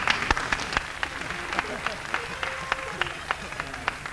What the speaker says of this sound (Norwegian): Og litt applaus innimellom.